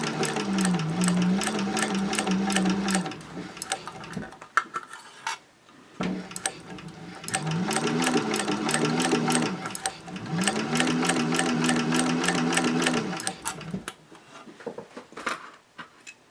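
Domestic sewing machine running in steady bursts while stitching along a previous seam line for a fabric caddy, with a short pause midway and a brief stop before the end, loud and close.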